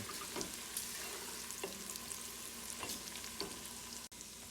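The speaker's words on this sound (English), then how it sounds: "After I add the garlic, turn the heat off and wait for it to cool down while stirring it occasionally." Garlic frying and browning in a pan with occasional stirring, a steady close hiss of oil with soft scraping strokes at intervals and no talking.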